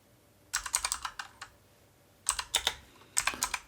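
Quick bursts of keystrokes on a computer keyboard while entering a router configuration command, three clusters of crisp close clicks separated by short pauses, with no speech.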